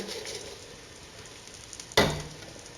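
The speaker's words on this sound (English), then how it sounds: "we're going to put the arborio rice in there" Arborio rice tipped into a hot pan of softened onion and olive oil for risotto, bringing a sudden louder sizzle and crackle over a steady low frying hiss, close and alone without talk.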